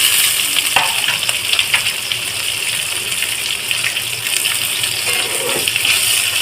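Chopped onion and green chilli dropped into hot oil with spices, frying with a loud, dense sizzle and crackle, close up, with brief bursts of sputtering over the steady hiss.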